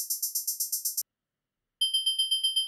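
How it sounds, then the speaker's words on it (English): Synthesized FM tones from a SuperCollider pattern sequencer: a rapid string of identical bright, high beeps, a pause, then a thinner, steadier run of pulsing electronic notes, all crisp and close with no talk. "let's use pbind from tutorial 10 to make an FM sequencer, specifying synthdef name and delta time"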